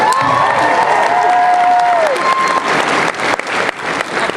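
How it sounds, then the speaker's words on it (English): A sci-fi convention crowd in Dallas applauds loudly, with whoops and cheers rising over the dense clapping before it thins toward the end. "So a big round of applause for you guys"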